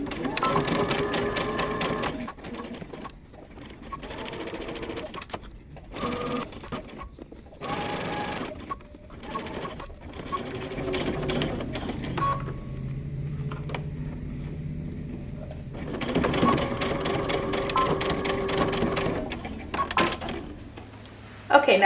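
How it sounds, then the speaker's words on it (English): Sewing machine stitching a moto jacket seam, several runs of loud mechanical whirring broken by short pauses and fabric handling, with a quieter stretch in the middle. "we're going to sew using 5/8 of an inch seam allowance."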